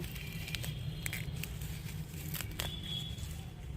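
Bathua greens pulled up by hand in a rooftop garden, soft faint rustling, tearing and crinkling of leaves and stems in a few brief bursts over a low background hum.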